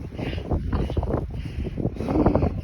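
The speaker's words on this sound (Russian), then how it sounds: "Смотри, какая пурга" Blizzard wind rushing and buffeting a microphone outdoors while a dog is walked, a dense continuous roar with gusty swells and no talk.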